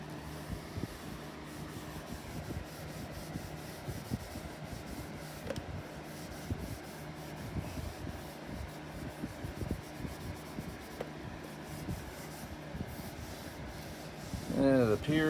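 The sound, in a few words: rubbing Brasso on MacBook to remove gunk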